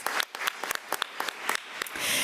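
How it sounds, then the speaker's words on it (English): Applause from an audience at a school board meeting, a short burst of clapping that dissolves into a denser wash of claps near the end, moderately close with no one speaking. "Let's give Ms. Queen Reed a round of applause."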